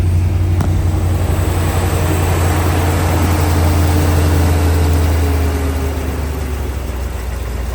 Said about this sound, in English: Hear the EFI idle go down.